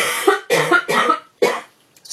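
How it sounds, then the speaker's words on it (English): Four harsh coughs in quick succession, close and loud, with short pauses between them. "I'm going to have to cough."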